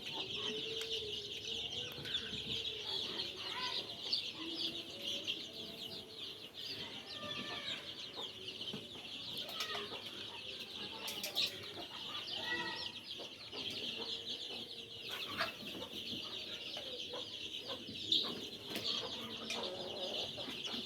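Young Sonali chickens cluck and chirp softly while pecking at and eating azolla, with faint scattered peeps and light movement against a steady background hiss.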